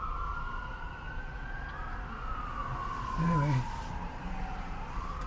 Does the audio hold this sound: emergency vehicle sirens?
yes